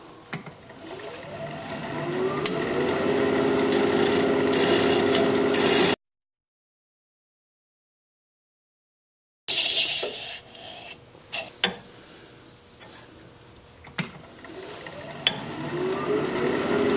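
A tool scrapes and rasps against an alder bowl spinning on a lathe, a steady grinding rub with a few sharp clicks and a pause of silence midway.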